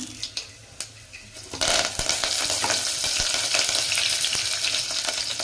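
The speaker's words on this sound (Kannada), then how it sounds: "ಈಗ ಇದು ಎರಡನ್ನೂ ಚೆನ್ನಾಗಿ ಫ್ರೈ ಆಗಲಿ" A few clinks of a utensil, then garlic drops into hot oil and a loud, steady sizzle takes over, continuing with occasional stirring scrapes.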